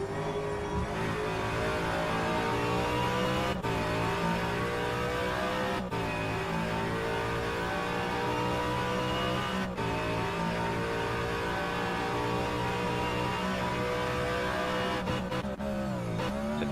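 A V8 Supercar Ford Mustang in the rFactor 2 racing game roars steadily at high revs through a flying lap at Tailem Bend, its engine tone climbing and dropping sharply at gear changes, loud and continuous with no talk.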